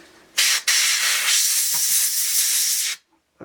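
A strong blast of compressed air hisses loudly and steadily for about two and a half seconds while a fidget spinner is blown clean of water and carburetor cleaner, with a brief break near the start.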